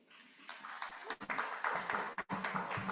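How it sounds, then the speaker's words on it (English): A faint, moderately sized round of applause at a coral reef restoration project presentation, continuous clapping from the audience with a couple of brief dips, heard quietly at a distance. "And now a proper round of applause for our presenters, please."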